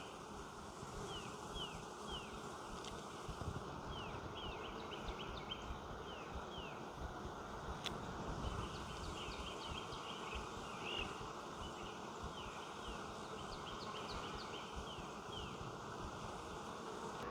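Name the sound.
bees buzzing in a hive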